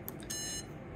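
Electronic beep tones from the motor controller of a scooter steering damper, three short high beeps in quick succession, fairly faint over low background noise.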